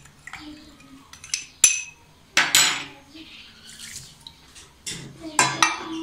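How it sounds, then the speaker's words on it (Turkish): Thick grape molasses drips from a glass in a kitchen while making a Ramadan compote, with sporadic sharp glassy clinks and wet drips spaced unevenly, close and fairly loud against quiet surroundings. "Pekmezin damlasını ziyan etmeyelim."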